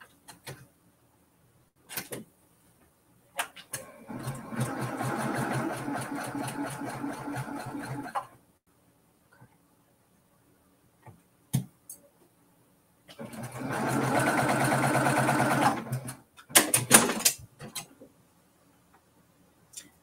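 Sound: sewing machine stitching quilt block fabric

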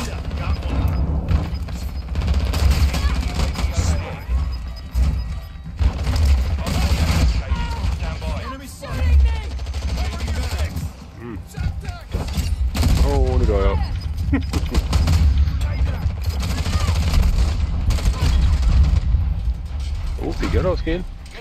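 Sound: gunfire from a video game

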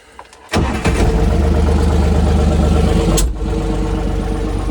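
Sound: DTZ 5244NRKh tractor working, sowing soybeans with Zarya seeder

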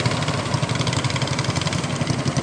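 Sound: boat engine revving on the Kahayan River

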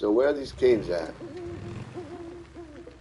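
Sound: owl hooting in the video game Days Gone

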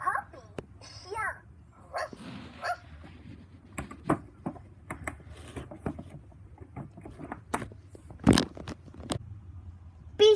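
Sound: puppy barking sound from Fisher-Price Laugh & Learn toy piano

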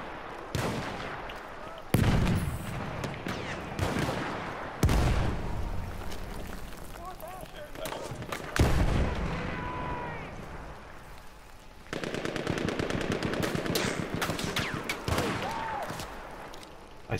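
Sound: gunfire in the video game Battlefield 1

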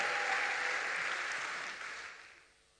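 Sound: congregation applauding in church

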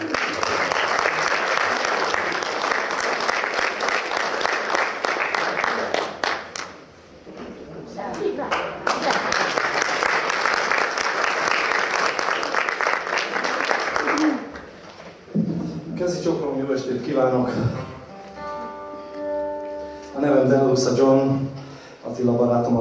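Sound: audience applause welcoming a performer on stage

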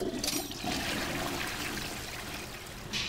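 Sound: toilet flush in the video game Rec Center Tycoon

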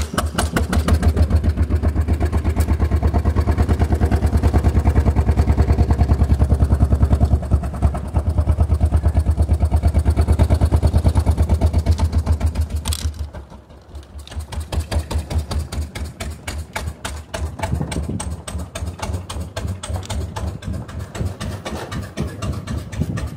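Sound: single-cylinder engine of a 1906 Sizaire-Naudin voiturette driving

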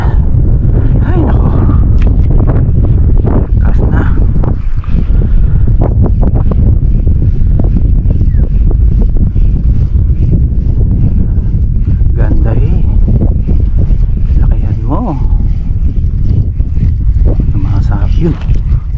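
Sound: wind

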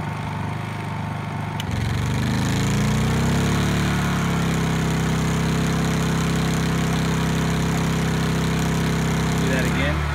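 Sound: portable generator engine revving up under heat gun load

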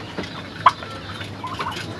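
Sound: turkeys gobbling

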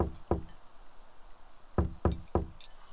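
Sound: knocking on a door, from a video game

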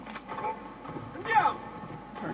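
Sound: horse hooves clip-clop in Assassin's Creed Brotherhood video game

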